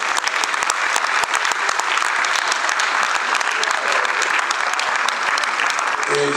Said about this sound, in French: Qu'il soit applaudi, s'il vous plaît.